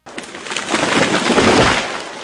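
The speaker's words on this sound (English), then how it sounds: "That was the sound of a tree falling." Sound effect of a tree falling: a loud, sudden burst of crashing, rushing noise that swells and holds for about two seconds, close and dense.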